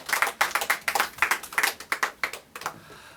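Congregation applause at a church service, a brisk burst of many hands clapping close by, steady and dense before tapering off at the end.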